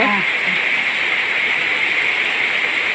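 Heavy rain roars as a constant, loud wash of noise, with a brief voice at the start.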